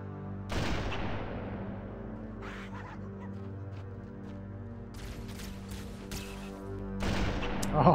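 Player gunshots strike the ground in Halo CE, a sharp loud burst near the start, scattered shots in the middle and another loud burst at the end over a steady game background.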